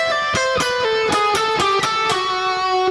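Blues-style electric guitar lick in a Mixolydian mood rooted on D, a quick run of about eight sharply picked notes stepping downward, played clearly and alone with no talking.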